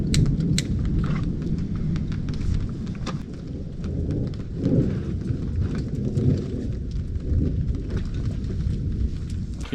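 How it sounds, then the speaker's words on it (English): A thunderstorm over a campsite tarp on an Algonquin Park canoe loop, a dense, steady rumble of rain and distant thunder with scattered sharp taps throughout. "The storm has arrived."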